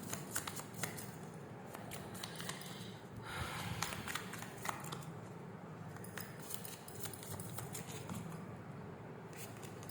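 Tarot cards are shuffled and drawn by hand in a steady soft riffling and flicking, with crisp paper snaps and slides, quiet and close.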